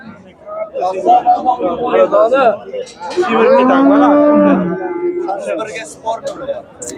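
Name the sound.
cow mooing at a livestock market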